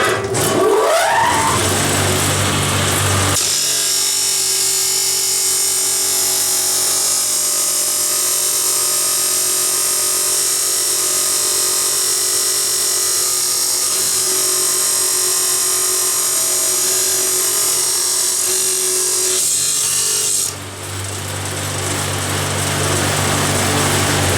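Power tool with an abrasive cutting disc slicing through metal, running on a 220-volt capacitor-start motor: a loud, sustained high whine that spins up, holds under load for about seventeen seconds, then drops away.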